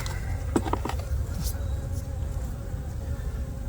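Agitated honeybees buzz steadily in a dense, continuous drone, close by, with a few brief louder passes over a low background rumble.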